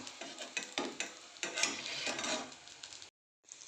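Fasting cutlets frying in a pan as they are turned over, with scraping and clinking of a utensil against the pan over a steady sizzle, then a brief pause.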